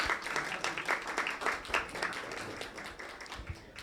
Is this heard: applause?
yes